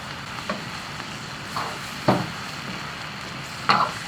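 Duck stir-fried with young ginger and garlic, seasoned with soy sauce and salt, gives a quiet steady sizzle broken by a few brief spatula scrapes and clatters in the pan.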